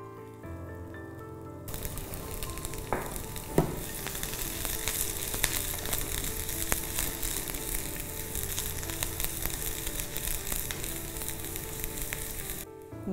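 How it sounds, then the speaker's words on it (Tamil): Garlic fries in a little oil in a pan, a steady loud sizzle that starts after a quiet moment and runs on evenly with a few light stirring clicks, no voices. "அதில் இதை நல்லா ப்ரௌனாக வறுக்க போகிறேன்"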